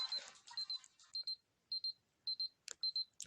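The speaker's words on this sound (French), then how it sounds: "Enfin, en tout cas, l'alarme, j'ai mis au minimum." A household alarm turned down to its lowest volume gives short, high electronic beeps in a steady repeating pattern, about six quiet pulses separated by brief gaps, with some faint clatter and no talking.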